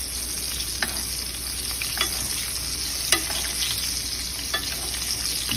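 Blackened salmon bastes in hot bubbling butter, with a steady loud sizzle and frying hiss broken by a few soft spoon scrapes and splashes at irregular intervals.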